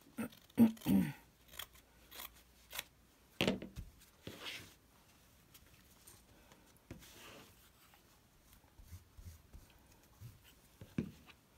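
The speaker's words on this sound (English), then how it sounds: "I'm just going to cut this off with the scissors right up against the edge there." Crisp scissor snips through fabric, a handful of them close by and irregularly spaced, with quiet rustling and handling noise in between.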